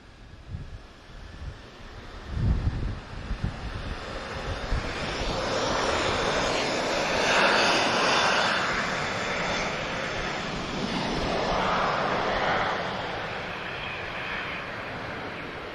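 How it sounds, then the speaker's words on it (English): A Transavia Boeing 737-800 rolls for takeoff at Lisbon Airport, its engine roar rising from a distance and holding as a broad, swelling rumble with some wind noise. "We have an 800 about to roll now, Transavia."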